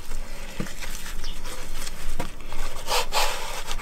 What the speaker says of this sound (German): das ist zu lang, das schneide ich ab.